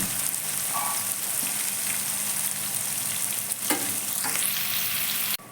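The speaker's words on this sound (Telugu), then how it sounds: "ఇప్పుడు ఆనియన్స్ ఫ్రై చేసుకోవాలి." Onions sizzling and frying in hot oil in a pan, a steady close crackling hiss throughout with occasional stirring scrapes, no talk.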